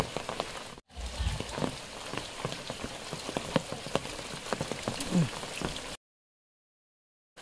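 Steady rain falls outdoors on a slippery path, a dense patter of drops striking nearby surfaces that continues evenly and then cuts off abruptly near the end.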